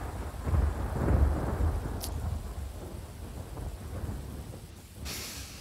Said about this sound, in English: Hello, thunder, though.